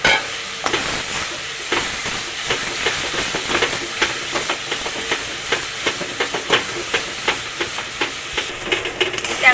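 Mashed banana blossom with coconut and spices cooking in a pan, soft sizzling and hissing with repeated scraping and stirring strokes in an uneven rhythm.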